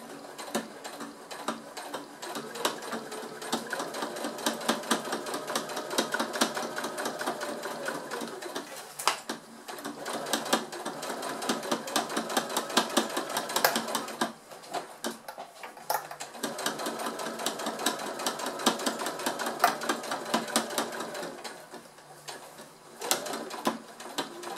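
An electric sewing machine stitches fabric for a zipped handbag in fast, steady bursts of rapid needle clatter, pausing briefly a few times before starting again, close and moderately loud.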